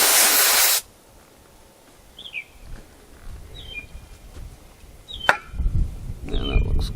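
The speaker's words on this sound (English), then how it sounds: "Take some brake clean." A can of brake cleaner sprays in one loud hiss onto a Husqvarna 44 chainsaw under refurbishment. It cuts off abruptly, followed by faint clicks and handling noises.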